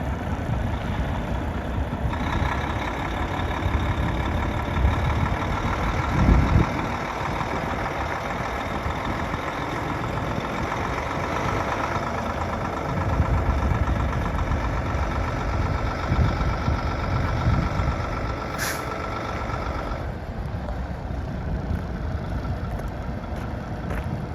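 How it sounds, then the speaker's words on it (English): Class 1 truck engine running steadily while the truck backs up, a continuous heavy low rumble with a faint whine, fairly loud and even throughout, with no talk. "Driver's now re-entered the vehicle and backing into the south main."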